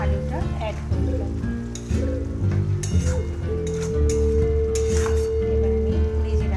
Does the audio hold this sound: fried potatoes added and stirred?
yes